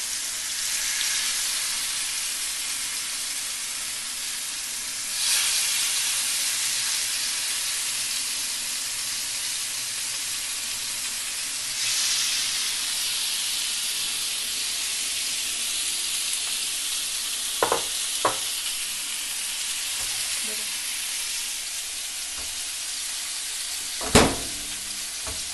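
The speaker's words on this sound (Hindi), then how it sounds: "तो हम लैम चॉप को डालेंगे, वो एक एक करके दोनों साइड से हम अच्छी तरह से पकाएंगे इसको।" Lamb chops sizzle and hiss steadily in a hot pan while being grilled, a continuous close frying sound with a few brief sharp clicks and knocks of utensils near the end.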